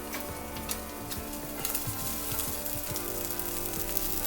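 Prawns sizzle and fry in a hot pan for okonomiyaki, a steady close crackle with occasional stirring scrapes throughout.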